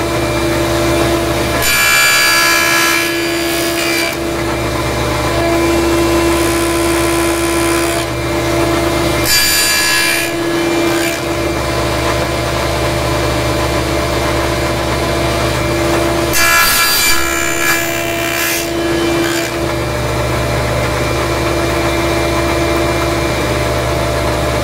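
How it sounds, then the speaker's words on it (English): A hand saw cuts wood for a finger joint in three separate bursts of rasping strokes, set against a constant low machine hum in the workshop. "now we're going to cut on the other side the same way"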